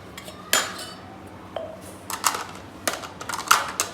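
Dishes and cutlery are set out quickly for the Ramadan iftar meal, with a series of close, sharp clinks and clatters of plates and utensils at an irregular pace and no voices.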